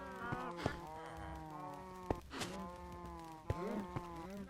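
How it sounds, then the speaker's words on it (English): Minecraft cows lowing in repeated drawn-out moos, overlapping and fairly quiet, with soft game sounds in the background. "More baby cows."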